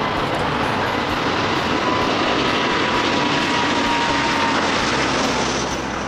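Airbus A330-900 Neo airliner engines give a continuous, loud broadband roar with a steady whine, unbroken and even throughout with no voices.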